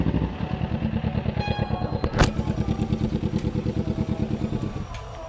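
A motorcycle engine putters nearby in a steady rapid pulse as the bike is moved indoors, with a sharp clack partway through, then the engine fades slightly.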